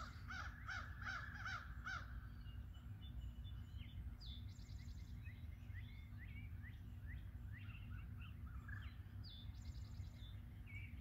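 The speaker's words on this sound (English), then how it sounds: "I'll leave here with just a few seconds of just the sound of the birds" Crows caw outdoors in a quick series of harsh calls at the start, followed by scattered chirps from other birds over steady background hum.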